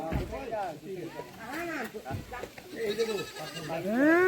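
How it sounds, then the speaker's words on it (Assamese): Goats bleat repeatedly at close range in wavering, rising and falling cries that overlap one another, with people talking among them in an outdoor setting. "আহি গৈছে ছাগলীও আহি গৈছে"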